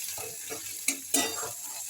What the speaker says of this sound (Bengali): এটাকে ভালো মতন ভেজে